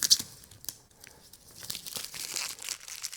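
Blade slicing through vinyl hood stamp dragged along the back side of a 2003-2009 Toyota 4Runner hood, a close, faint crinkling, tearing rasp rising and falling over about three seconds.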